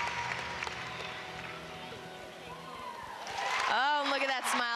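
Crowd at a college gymnastics meet, Georgia vs LSU, after a floor routine: broad roaring applause and cheering building at the end, with a voice speaking over it.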